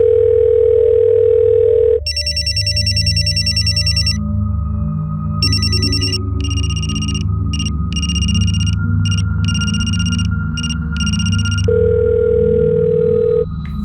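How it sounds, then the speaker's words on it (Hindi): An Indian phone rings out unanswered: bursts of electronic ringtone repeat over about ten seconds, with a steady low tone before and after and a continuous background hum, no voices. "बज तो रहा है लेकिन वो उठा नहीं रहे।"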